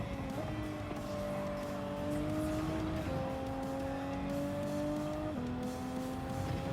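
A race car in a racing game at the Red Bull Ring drops down to second gear, its engine note stepping up sharply in pitch with each downshift and then holding a steady, strained drone.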